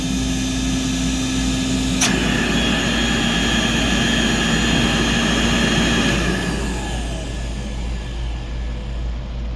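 Compact C1 fan under an airflow test, giving a steady rushing drone with a high, sustained whine; a brief click breaks in, and the tone eases slightly later on.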